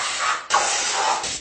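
A barber's spray bottle hissing in two long, close bursts of mist aimed at a client, with a short break between them and no talk.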